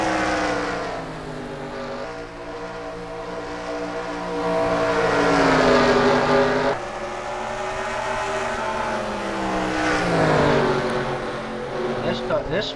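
Race cars in a Bristol heat race roar past with rising and falling engine notes, several cars revving and shifting in waves at moderate distance, with a commentator talking over them.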